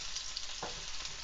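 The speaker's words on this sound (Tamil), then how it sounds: "கடுகு பொரிஞ்சிருச்சு, வெங்காயம் போட்டுக்கிடுவோம்." Onions frying in hot oil after mustard and fenugreek seeds have popped, cooking for a Madurai-style vathal kulambu; a steady broadband sizzle runs throughout, with a brief stir or scrape midway and no talking.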